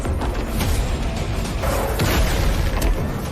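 Donghua animation explosion as a blood demon tree strikes a frog and turns it to ash, a loud booming rumble with bursts and whooshes that stays heavy across the whole stretch.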